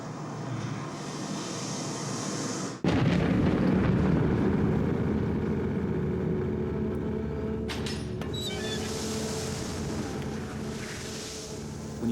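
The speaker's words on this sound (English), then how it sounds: "it will sound like one harmonious sea crashing sound effect" A layered sea-crashing sound effect for a stage production of Twelfth Night blends waves, wind, a ship and storm into one sound. After near-silence, a loud roaring surge bursts in and holds as a heavy, sustained rumble.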